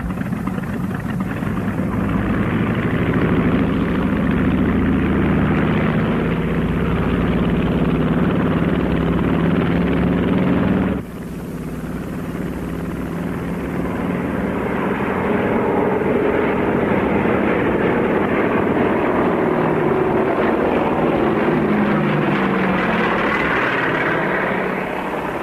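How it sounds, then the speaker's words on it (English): A seaplane's engine runs loud and steady through its takeoff run, a broad continuous roar that shifts briefly partway through, then carries on just as strong. "Olympic seaplane, you're cleared for takeoff."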